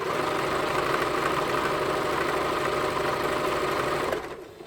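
Sewing machine running continuously while stitching a cross-over apron, a steady close motor hum with rapid needle chatter that cuts off abruptly near the end, with no voices.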